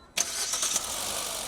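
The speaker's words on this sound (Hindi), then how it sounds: "मैं एक बार चालू करके दिखाता हूँ गाड़ी" A Hyundai Venue facelift HX5 with a 1200cc engine starts up: a short, sharp crank bursts in, then settles at once into a quiet, smooth idle close by.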